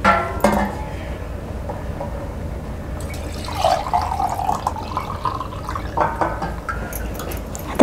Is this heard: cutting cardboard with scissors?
no